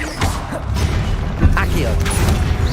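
A Confringo fire spell cast in Hogwarts Legacy, a run of crackling, whooshing bursts over a low rumble of game effects, with a shouted voice over it.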